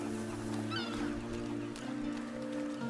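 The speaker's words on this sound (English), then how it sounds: "Hold on. Why is that goose so big?" A goose honks in A Plague Tale: Requiem, a few short nasal honks around the first second over steady game music and ambience, with no talking.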